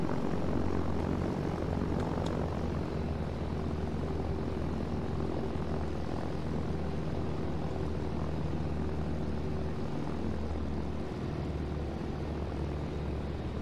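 A propeller airplane engine drones steadily in flight within a flight simulator game, a constant, even hum heard alone and unbroken, with no talking over it.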